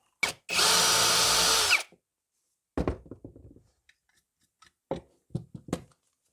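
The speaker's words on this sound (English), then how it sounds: "now we can re-drill it" A power drill bores back into a filled, stripped screw hole in timber under a door hinge, one loud steady burst of about a second and a half, followed by scattered knocks and handling sounds nearby.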